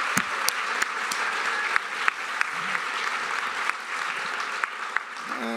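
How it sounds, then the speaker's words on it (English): A courtroom audience at a staged Shakespeare mock trial applauds both counsel, a steady, dense round of clapping with a few sharper claps standing out, lasting several seconds before tapering off. "let's give both counsel a round of applause"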